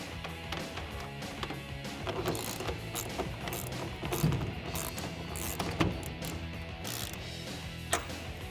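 A ratchet fitted with a 9/16 socket tightens lock nuts on a soft rolling tonneau cover for a 2009-2014 Ford F150. Faint, quick clicking strokes repeat in short runs with mechanical rattles between them.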